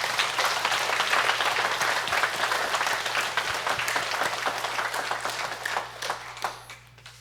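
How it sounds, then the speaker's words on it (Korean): A congregation at a Korean Won Buddhist service marking Children's Day bursts into sustained applause that fills the hall, then thins out and fades near the end. "세상의 모든 어린이들을 위해서 축하의 박수를 먼저 치고 시작했으면 좋겠습니다."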